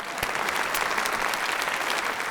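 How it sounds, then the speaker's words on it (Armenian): A studio audience on an Armenian television show applauds a guest, a loud, dense, steady clapping from many hands that carries throughout with no voices heard. "բարձր ծափարենք Վանին"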